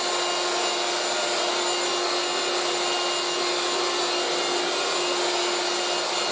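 A 1980s Moulinex Aspirateur No1 237/320 handheld vacuum cleaner runs steadily throughout, a loud, even motor whine with airy rushing over a constant hum, its suction partly obstructed.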